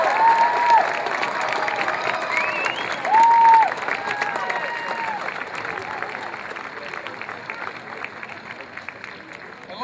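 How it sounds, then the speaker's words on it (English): Audience applause at the 2016 William & Mary Law School diploma ceremony: a steady, dense wash of clapping that keeps going for the whole stretch and slowly thins toward the end, with cheers and voices mixed in. "let's have a round of applause for the class of 2016"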